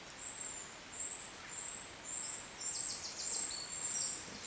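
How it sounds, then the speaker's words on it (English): Small birds by a river give thin, high repeated chirps in a regular rhythm, faint and somewhat distant over a soft background hiss. "Plenty of birds singing on."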